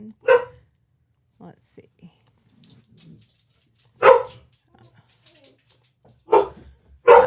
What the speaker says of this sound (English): I hate when the dogs start barking like that.